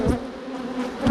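Honey bees from a purchased package, buzzing in a steady, dense hum with a couple of louder swells as bees pass close.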